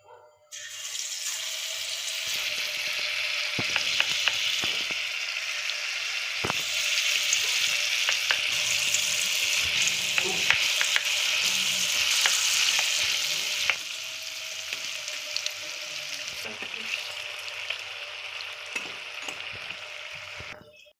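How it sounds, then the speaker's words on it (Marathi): Urad dal bhaji batter, with a pinch of soda, fries in hot oil in a kadai, giving a loud, continuous bubbling sizzle for the whole stretch, dotted with sharp crackles and occasional clicks. "आता त्याच्यात ना आपण हे उडदाची भजी सोडून घेऊया"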